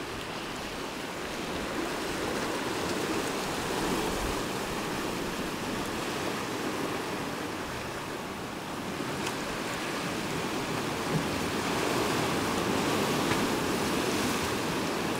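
Ocean waves crash against rocks and a wharf at a cove in Newfoundland, a steady broadband surf roar with soft swells, heard close and continuous with no voices.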